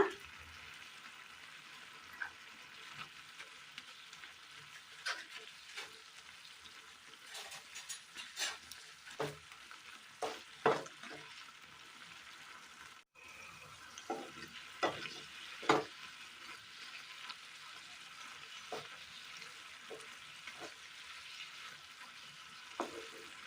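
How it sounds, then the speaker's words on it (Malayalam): Curry simmering in a frying pan with curry leaves and a pinch of salt is stirred, a steady low sizzle broken by frequent spatula scrapes and clinks close by, with no talking. "നന്നായി ഒന്ന് മിക്സ് ചെയ്തെടുക്കാം കറിവേപ്പില"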